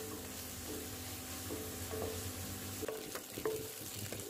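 Onions fry golden brown in a pan with a steady, close sizzle, stirred now and then with a few scraping clinks, and no talking.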